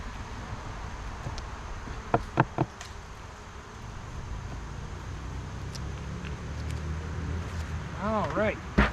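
Honeybees hum in a steady low drone around an open hive during a late-season inspection, with a few louder buzzes darting close by and soft background noise throughout.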